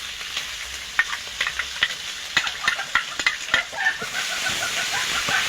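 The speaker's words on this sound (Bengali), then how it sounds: "মশলাটা ভালো করে কষিয়ে নিয়েছি" Spice paste of chili, ginger, coriander and cumin frying with onion and garlic, a rhythmic series of quick spoon taps and scrapes over a hissing sizzle that grows steadier toward the end.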